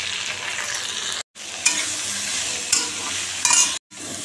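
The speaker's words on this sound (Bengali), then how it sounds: "আমার ভাজা হয়ে গেল, ক্যাপসিকাম পেঁপে ভাজা" Capsicum and papaya frying in a pan with turmeric, giving a steady close sizzle with a few stirring scrapes, broken by two brief silent cuts.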